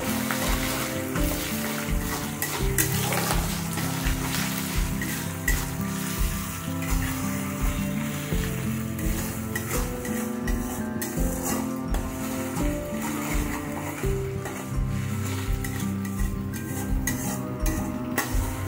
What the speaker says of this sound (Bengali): 1 চামচ জিরে বাটা দিয়ে দেবো। দিয়ে ভালো করে কষিয়ে নেব।